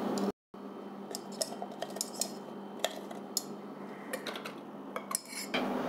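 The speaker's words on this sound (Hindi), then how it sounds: "नेक्स्ट इंग्रेडिएंट मैं ऐड कर रहा हूँ मिल्क आइस क्यूब्स" Milk ice cubes clatter into a blender jar for a guava smoothie, a run of sharp, close clinks and knocks against glass or plastic at irregular intervals after a brief silent gap.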